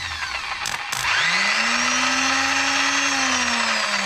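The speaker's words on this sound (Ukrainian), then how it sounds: "Він у нас редукторний, того такий звук чуть-чуть є." Geared starter motor on a Solis 26 mini tractor, wired to a weak battery, spins up after a couple of short clicks and whines steadily at a rising then settling pitch, loud and close with no talk.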